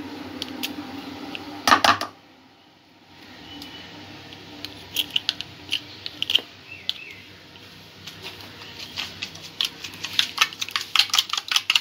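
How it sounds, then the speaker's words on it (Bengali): Milk, chocolate, butter and sugar whisked together in a bowl, giving quick clicking, tapping strokes that come in uneven bursts, close by with no talking. "সবকিছু একসঙ্গে খুব ভালো করে ফেটিয়ে নিতে হবে।"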